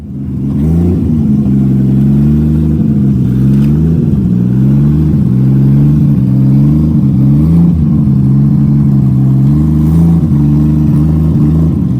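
A Lexus SC300 car engine, tuned to 655 hp, idles and revs steadily up close as it pulls into a garage, its low drone rising and falling in gentle surges the whole time, with no voices.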